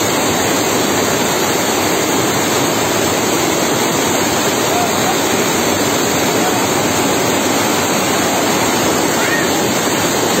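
Heavy rain in the Banjara Hills area with floodwater pouring into homes, a dense, roaring wash of downpour and rushing water that stays loud and constant throughout.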